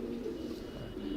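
A female racing pigeon coos softly in a loft, a single low continuous murmur heard up close.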